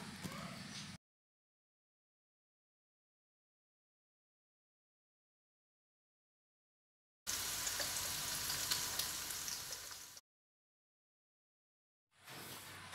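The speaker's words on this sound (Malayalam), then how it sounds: "മുളക് പൊടി ചേർത്ത് കൊടുത്താൽ നന്നായി അതിൻ്റെ പച്ചമണം മാറുന്നതുവരെ ഒന്ന് വഴറ്റി കൊടുക്കാം." Onions and Kashmiri chili powder sauté in a pan with a close, even sizzle that comes in three separate bursts with long stretches of total silence between them.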